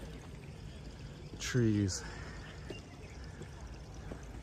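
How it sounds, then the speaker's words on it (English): Water pours steadily from outdoor fountains in rainy weather, a soft continuous wash in the background, with someone speaking briefly over it. "the sound of water and all fountains pouring down"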